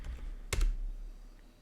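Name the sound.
typing on a computer keyboard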